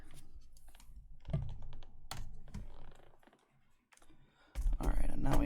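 Clicks from a computer keyboard and mouse, close up in a small room, arriving in short scattered bursts with pauses between them, mixed with someone talking.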